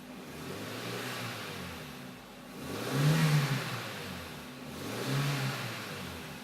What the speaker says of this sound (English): It's got a nice throaty sound there going.